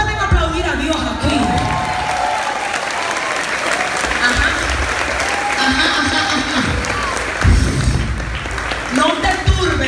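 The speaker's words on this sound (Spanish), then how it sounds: "¿Cuántos pueden aplaudir a Dios aquí?" A church congregation applauds loudly and continuously, with scattered cheers and whoops, while a preacher's voice carries on over the clapping throughout.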